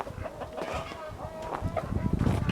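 Chickens cluck around a backyard coop on a rural property, a few soft clucks and calls rising over a steady bed of outdoor noise, with a voice talking faintly in the background.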